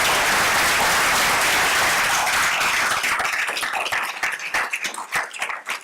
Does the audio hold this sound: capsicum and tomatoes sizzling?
no